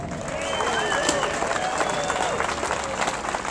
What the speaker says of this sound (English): give those people a round of applause